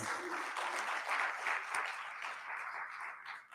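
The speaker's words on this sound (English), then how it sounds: "Let's give Mr. Lonzo another round of applause." Audience applause fills a chapel service, a steady wash of many hands clapping at moderate volume that holds for several seconds and tapers off at the end.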